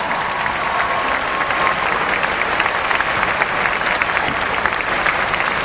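A large audience at a university graduation ceremony applauds continuously, a dense, even roar of clapping from many hands in a big hall, loud and sustained throughout without speech.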